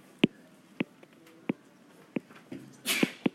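A single sneeze bursts out from someone nearby amid a quiet room, preceded and followed by sharp clicking taps, with no talking.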